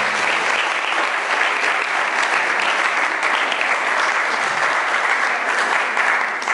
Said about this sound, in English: So I'd just like to give them a big round of applause,